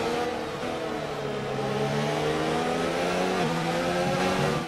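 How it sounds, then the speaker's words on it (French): A Mercedes-powered Formula 1 car in the F1 2019 racing game drives with a loud, steady engine roar that holds for the whole stretch while its pitch rises and dips slightly. "Regardez l'aspiration avec le moteur Mercedes."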